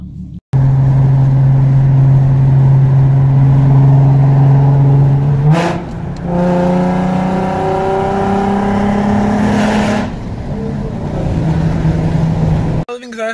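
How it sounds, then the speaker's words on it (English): A Nissan 370Z engine warms up with a loud, close steady idle, then revs up a couple of times with rising, falling tones before settling again. "Warming up the Z now, just getting off of work, and yeah, but she still sounds like a beauty."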